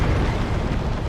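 Singularity D-cannon blast in a Dawn of War 2 3v3 match: a continuous, loud, dense rumbling roar with crackling texture, sustained evenly for just over a second with no talk over it.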